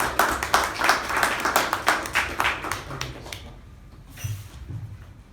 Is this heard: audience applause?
yes